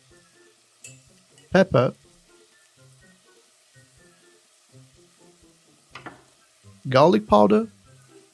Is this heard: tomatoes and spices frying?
yes